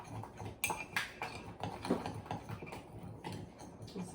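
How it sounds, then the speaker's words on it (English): A spoon stirring mug cake brownie batter inside a mug, making light irregular clinks and taps against the sides over a quiet kitchen background. "I just use the end of my spoon and kind of stir it around in here"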